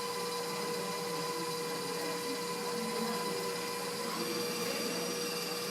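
An electric mixer creams brownie batter in a kitchen baking demonstration, a steady, even motor whir running continuously and fairly close with no talk over it.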